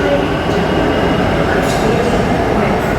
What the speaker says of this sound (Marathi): समोरून आपली आता मेट्रो येते.